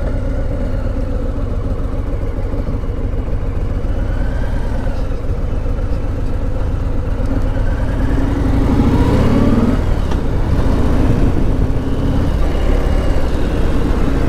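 A 2020 Harley-Davidson Sport Glide cruiser motorcycle engine runs with a steady, loud low rumble throughout, swelling briefly in pitch around the middle before settling back to an even idle.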